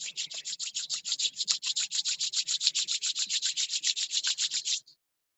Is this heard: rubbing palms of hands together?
yes